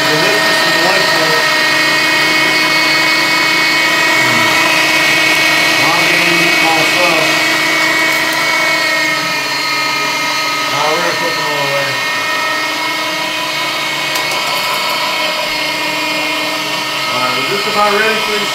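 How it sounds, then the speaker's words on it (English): A meat grinder working through venison, domestic pork trim, fresh onion and garlic: a loud, steady motor whine with a strained, slightly varying pitch that runs throughout, with speech heard over it. "we're grinding fresh onion, fresh garlic, and the venison, and all that, and that domestic pork trim"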